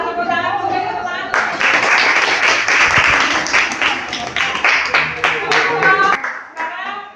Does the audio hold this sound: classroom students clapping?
yes